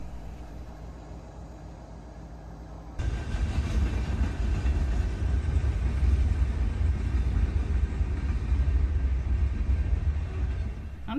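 Quiet ambience, then a train arrives abruptly along the Lincoln Highway in Illinois and rumbles past continuously, a loud, steady rolling roar of rail cars close by.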